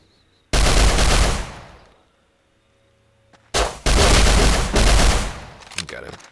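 Gunfire in the video game Rust: two loud, dense bursts of rapid shots, the first lasting about a second and a half, then a pause and a longer second volley with several sustained strings of fire.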